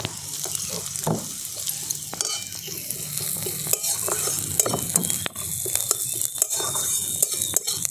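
Spiced chana dal mixture with kasuri methi fries in a pan, a continuous close sizzle broken by repeated scraping and clinking of a spoon stirring against the metal, with no talking.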